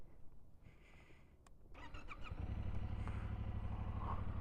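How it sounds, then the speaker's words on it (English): A Yamaha MT-07 motorcycle cold-starting: a few faint clicks and a brief cranking whir, then the twin-cylinder engine catches and settles into a steady, close, throbbing idle. "when I first start the bike, like cold start"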